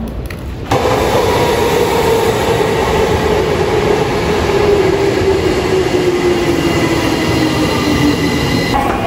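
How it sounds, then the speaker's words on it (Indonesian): A Tokyo subway train rumbles through Otemachi station, a loud, close, continuous roar of wheels on rail with a faint descending whine, starting abruptly after a brief quiet moment and holding steady to the end. "Kita udah di stasiun Otemachi, mau ke Chiyoda Line."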